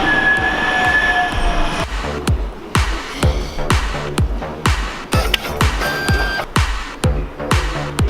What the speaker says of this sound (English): I'm just about to jump on the tram at Sale.